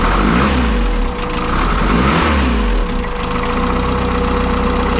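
A 500bhp classic Mini engine runs loud and close, roaring with uneven revving surges and a rough, knocking idle between them, heard alone with no talk.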